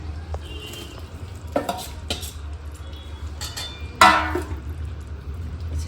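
Sesame seeds are stirred into hot, bubbling jaggery in a pan, giving soft scraping and clinking of a spoon against metal over a low, steady background hum, with one sharper clatter near the end.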